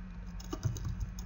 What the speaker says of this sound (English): Here we can type